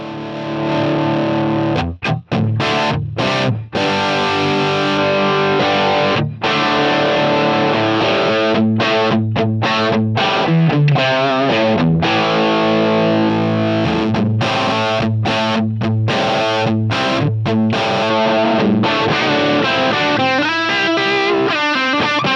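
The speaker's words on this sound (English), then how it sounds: "That real amp sounds very sweet there." Heavily overdriven electric guitar plays loud, sustained chords and riffs with a warm, saturated tube tone, a few brief stops between phrases.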